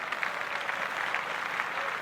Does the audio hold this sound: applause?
yes